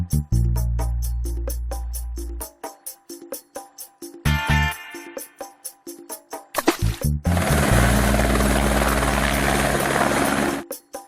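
A toy helicopter sound effect plays as a loud, rapid rhythmic chopping of rotor beats, shifting into a dense whirring engine drone in the second half, with brief interruptions; no one speaks.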